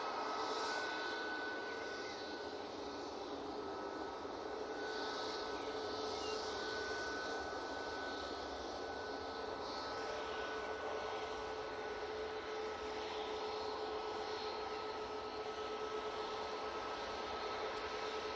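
Airliner landing at Manchester Airport, a steady distant jet whine and broad roar with faint tonal hum, continuous and fairly quiet.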